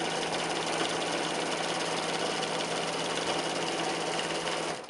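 Sewing machine quilting a loosely stitched hourglass quilt block without a walking foot, a steady close rapid mechanical hum and chatter running continuously before slowing at the very end.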